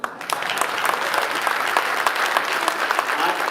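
Loud, dense applause from a hall audience of letter carriers welcoming Postmaster General DeJoy, a steady wash of many hands clapping for several seconds with no break.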